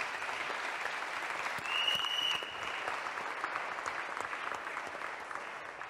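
A church congregation applauds steadily for several seconds, a dense, even clatter of many hands filling the room with no voices over it.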